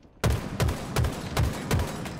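Bursts of gunfire in the video game Halo Infinite, five or six sharp volleys in a steady rhythm, loud and close, with no talk over them.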